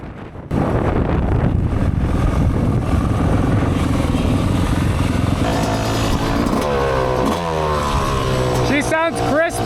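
A 450 four-stroke dirt bike engine roars loud and close on a motocross ride. Heavy wind buffets the microphone throughout, and the revs climb and fall in shifting pitches near the end.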